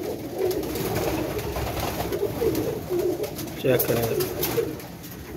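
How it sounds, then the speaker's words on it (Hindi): Jonsra pigeons, a flying breed, coo softly in low rolling phrases close by, partly under a voice speaking over a steady background hum. "ये कबूतर जोंसरा कबूतर है"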